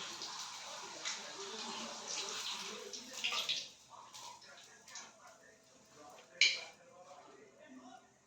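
Kadakani, a Maharashtrian fried dough snack, sizzles in hot oil over a low flame with a steady soft hiss and occasional crackles. A voice is heard over the frying.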